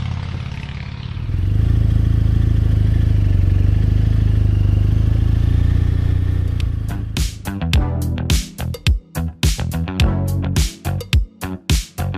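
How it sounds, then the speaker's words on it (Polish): A motorcycle engine rumbles steadily on an Alpine mountain road, growing louder as it approaches, then breaks into a loud clattering, revving burst as it passes close by. "O, coś burczącego jedzie. No wiadomo, w takim miejscu motocyklistów jest sporo."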